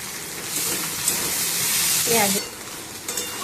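Cabbage frying in a pan, a loud, steady sizzle with bursts of stirring and scraping, and a brief voice partway through.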